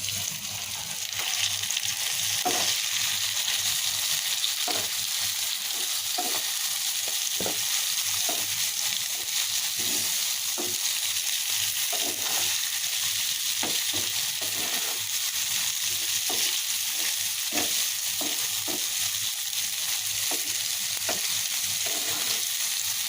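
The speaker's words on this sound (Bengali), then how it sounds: "এখন এই মাছগুলো এখানে দিয়ে কষিয়ে নেবো" Shingi fish sizzles and fries in hot oil in a pan with onion and green chilli, a steady broad crackle running throughout with scattered sharper pops and stirring clicks, fairly close and loud, no talking.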